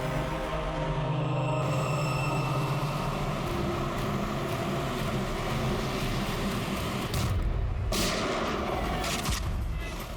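Gunfire in a Bengali TV crime drama rings out as heavy booming shots over a rumbling, noisy background, with a sharp burst of blasts near the end.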